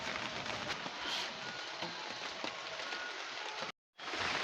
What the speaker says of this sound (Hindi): ये देख बारिश कैसे आ रहा है।